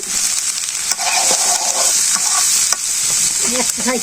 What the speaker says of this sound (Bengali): পেস্টটা আমার হয়ে গেছে এখন ভাজি